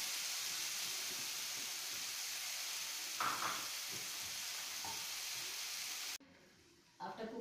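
Crushed peas cook in an oiled pan for a stuffed patice filling, giving a steady, close sizzling hiss for about six seconds before it cuts off into quieter stirring or scraping.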